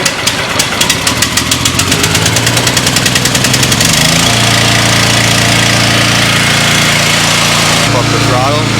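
An Eastonmade 12-22 log splitter's engine cranks with a rapid rhythmic starter chatter, catches after about four seconds and settles into a loud, steady, close running drone.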